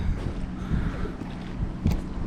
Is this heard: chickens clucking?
no